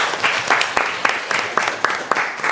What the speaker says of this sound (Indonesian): Tepuk tangan untuk Tufail.